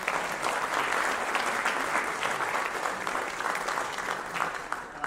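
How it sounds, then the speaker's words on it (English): Sustained audience applause for a soloist at a college fall band concert, a dense, steady wash of many hands clapping that holds fairly evenly throughout, with no talk over it. "give another round of applause to our soloist from that piece."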